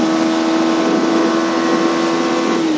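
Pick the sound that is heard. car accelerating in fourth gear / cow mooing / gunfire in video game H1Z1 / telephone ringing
car accelerating in fourth gear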